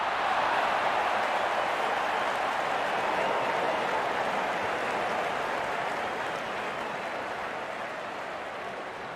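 Stadium crowd in the cricket video game RC24 applauding in a steady, dense wash of clapping and cheering that slowly fades over several seconds.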